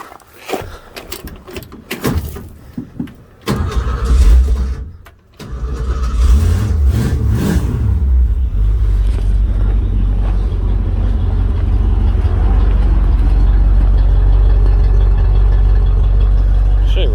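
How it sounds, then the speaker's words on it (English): A 1962 Ford Fairlane 500 V8 cranking over in a shop, a few stuttering starter bursts before catching, then settling into a loud, steady, smooth idle that carries on alone. "All right, let's fire her up."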